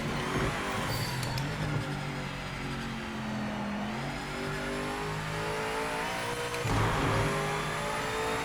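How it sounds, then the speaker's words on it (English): BMW M8 GTE race car in the Project Motor Racing video game at the Nürburgring, engine revving hard and accelerating out of corners, with rising and falling pitch and shifts, fairly quiet and steady. "The car powers out the corners nicely."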